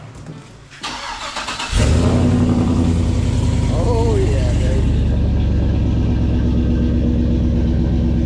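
A car engine cranks, catches and roars to life, then holds a loud, rough idle with some revving; a voice speaks briefly over it.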